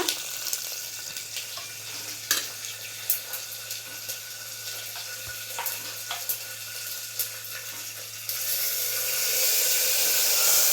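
Cooked lentils for a fenugreek-leaf dal tipped into a mustard-seed tempering: crackling pops and sizzling close by, swelling into a louder, steady hiss toward the end.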